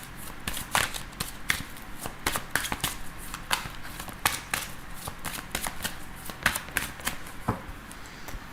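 Tarot cards shuffled by hand in a steady run of crisp riffling slaps and flutters, close and fairly quiet, with no talk.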